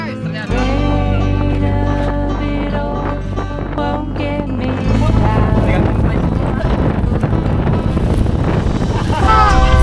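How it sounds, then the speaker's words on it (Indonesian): Strong windstorm gusting over an estuary beach in Indonesia, a loud continuous roar buffeting the microphone throughout, with a low droning hum underneath and intensity building toward the end. "Badai angin tergokil yang pernah gue alami."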